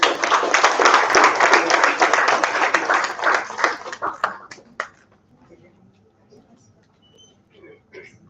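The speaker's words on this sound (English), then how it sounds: "Please give me a round of applause." An audience at an education summit claps for about four seconds, a dense close burst of applause that thins into scattered claps and fades to near quiet with faint background sounds.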